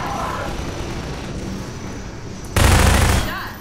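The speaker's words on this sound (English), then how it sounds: "the gunship's shooting in through the windows here" A Half-Life 2 Episode 1 helicopter gunship fires through hospital windows, its loud rapid gunfire bursting in suddenly and dense near the end, after a stretch of lower game ambience.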